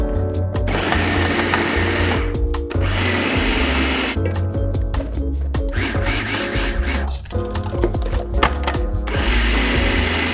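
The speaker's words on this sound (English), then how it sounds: "So there's tomatoes finely chopped by a food processor, as he has requested, and chipotle pepper is in there too." A food processor pulses tomatoes and chipotle pepper with seeds, its loud whirring motor running in repeated bursts separated by short pauses, close and continuous across the clip.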